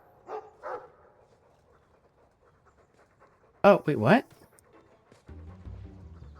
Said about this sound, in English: Is that my dog that we can interact with?